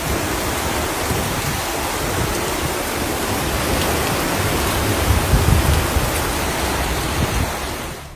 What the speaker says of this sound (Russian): Сильные проливные дожди, обрушившиеся на южные провинции Таиланда